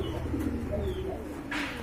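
Domestic pigeons at a bird market, soft low cooing close by, a couple of short rolling coos over a steady background hum.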